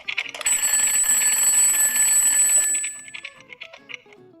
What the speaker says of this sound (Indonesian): Jam beker itu memiliki bunyi panjang.